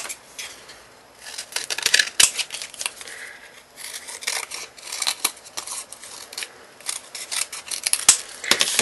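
Scissors roughly cut around a card pattern, a close series of crisp snipping and rasping strokes in irregular bursts with brief pauses, no voices.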